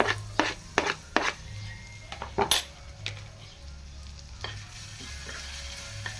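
Onions frying in a pan of oil, with repeated sharp clinks and scrapes of a utensil stirring against the pan over a low, steady sizzle, close up and with no talking.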